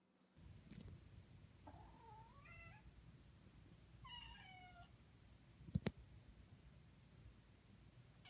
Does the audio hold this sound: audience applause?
no